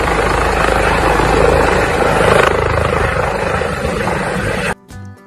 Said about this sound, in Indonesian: Lihat teman-teman, ada helikopter.